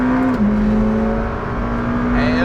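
A McLaren Senna sports car drives fast with a steady, strong engine drone. The pitch dips once and then holds loud and close with no break.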